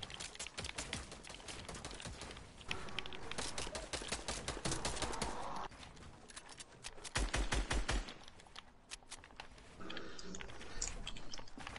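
Rapid gunshots in the battle royale game Fortnite, with rattling bursts of fire and sharp clicking shots spread throughout, moderately loud, with a heavier thumping burst partway through.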